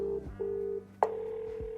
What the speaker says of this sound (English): Let's make some phone calls.